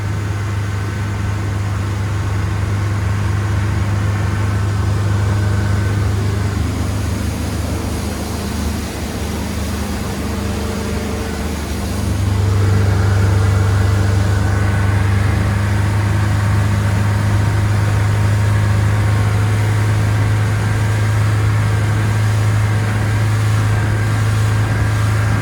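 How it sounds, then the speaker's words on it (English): Steady drone of a Yamaha 150HP outboard engine on a Campion Explorer 542 boat cruising at 3000 RPM, a constant hum with a slight pitch shift midway, no voices. "if you back her off to 3000 RPM, not too noisy, not a lot of engine noise"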